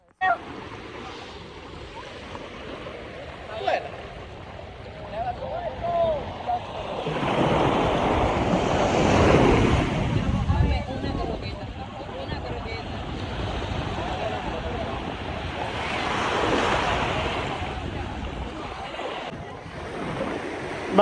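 Surf washing onto a beach on Cuba's south coast, a steady broadband wash that swells into two louder surges of breaking waves, with wind noise on the microphone throughout.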